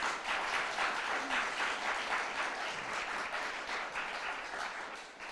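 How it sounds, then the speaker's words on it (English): Audience applause at a literature seminar welcoming the author Michelle Gallen, a soft, steady wash of many hands clapping, fairly distant and even throughout with slight rhythmic pulsing. "would you just please have a big round of applause for Michelle Gallen?"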